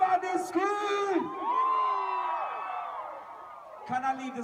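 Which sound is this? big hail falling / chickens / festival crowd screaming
festival crowd screaming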